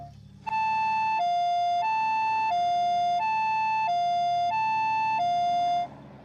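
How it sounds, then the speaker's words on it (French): A European ambulance siren sounds loud and close in a musical two-tone hi-lo pattern, alternating evenly about every second for several cycles before cutting off. "Mais les ambulances européennes ont un son plus musical"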